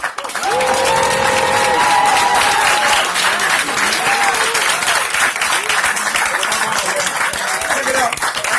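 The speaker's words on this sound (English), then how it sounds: "I want you guys to give a thunderous round of applause for a visionary" Loud, sustained applause from a crowd at a focus group event, dense clapping mixed with whoops and shouted cheers throughout.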